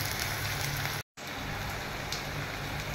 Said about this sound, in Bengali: এবার আমি এই তেলে আলুগুলো একটু ভেজে নিচ্ছি।